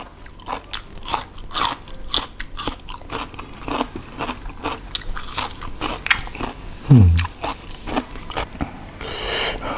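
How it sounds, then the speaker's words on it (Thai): Giant cockles dipped in spicy seafood sauce are chewed up close, with loud, repeated crunchy bites and wet mastication in an uneven rhythm, with no one talking. "ได้ยินเสียงเคี้ยวใช่ไหมครับ กรอบมาก"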